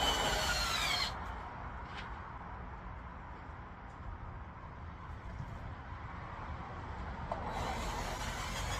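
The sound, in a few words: power drill drilling through PVC cups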